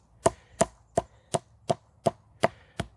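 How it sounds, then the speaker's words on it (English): A sub-hilt knife finely chopping food on a cutting board, eight evenly spaced sharp knocks in a steady rhythm, close and clear with no voices. "Fine chopping."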